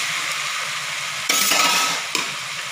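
Green peas dropped and stirred into spiced masala already fried until the oil separates, for a pea chaat: a steady sizzle jumps louder with a scraping stir partway through, then settles with another brief clatter.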